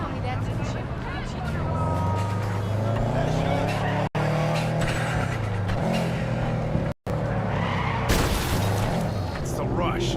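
A Porsche drives in the Cyberpunk 2077 video game, its engine droning and revving steadily, with a couple of brief cutouts and a loud burst near the end, while people talk over it.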